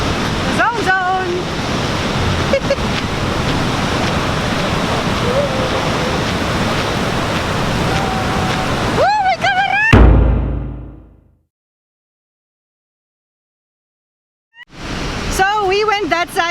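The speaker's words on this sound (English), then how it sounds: "This is the end of the big falls." Victoria Falls in Zimbabwe roaring as a steady broadband wash of falling water and spray, loud and close, with voices talking over it before a sudden cut to silence, then a brief return.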